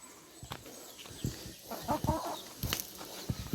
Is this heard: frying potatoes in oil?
no